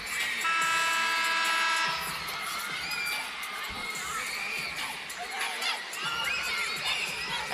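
Crowd noise in a volleyball arena during an NCAA women's match, a sustained roar of cheering and shrill shouting with whistle-like tones at first and thumping noisemakers throughout.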